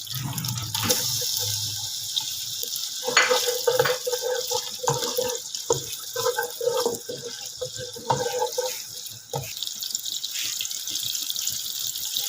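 Onions sizzle steadily in hot mustard oil for an aloo baingan sabzi, a bright continuous hiss with scattered pops and clatters of cookware.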